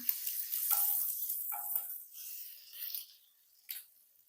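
Fish fries in hot oil in a pan, a soft, hissing sizzle with crackling spurts that rise and fade, fairly quiet and alone without talk.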